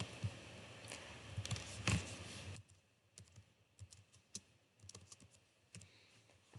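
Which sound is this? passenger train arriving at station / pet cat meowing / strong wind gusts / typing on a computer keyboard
typing on a computer keyboard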